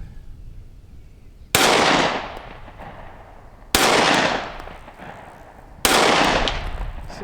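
Three sharp pistol shots from a Canik Mete MC9 fired at a steel plate about 80 yards out, spaced roughly two seconds apart, each a loud crack trailing into a long outdoor echo.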